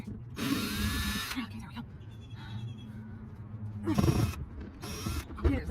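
Cordless power drill backing screws out of a popup camper's frame in several short whirring bursts, with quieter handling noise and shuffling in between.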